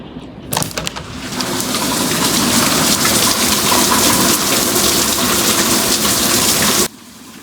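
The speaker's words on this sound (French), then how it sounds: "On entend le bruit de la pluie." Steady, heavy rain pours down as a dense, loud hiss that starts abruptly, holds for several seconds and cuts off suddenly, with a few sharper splashes at the start.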